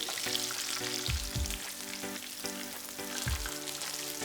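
Battered chicken nuggets deep fry in hot oil, a continuous bubbling crackle with several soft low thumps scattered through, close and steady with no voices.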